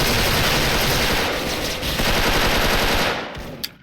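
Sustained rapid automatic gunfire fills the Special Force first-person shooter game, a dense unbroken burst that is loud and continuous, then cuts off near the end into a few scattered sounds.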